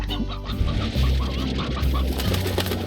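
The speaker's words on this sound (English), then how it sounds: "You can use your chickens to feed them" Chickens in the video game Slime Rancher cluck repeatedly in short soft calls over a loud, busy background hum.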